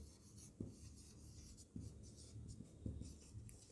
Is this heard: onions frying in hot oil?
no